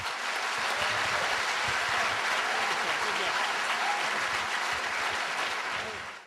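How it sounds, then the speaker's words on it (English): An audience claps steadily after a creation-versus-evolution debate, dense sustained applause filling the room at close range before tapering off at the very end, with no voices over it. "Let's give him a round of applause."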